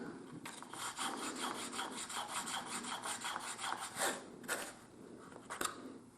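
Wooden lid of a homemade wooden steam engine rubbed back and forth on its top, making a close rhythmic scraping rasp of wood on wood, repeated strokes, with no talking.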